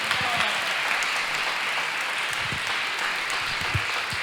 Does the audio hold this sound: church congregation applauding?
yes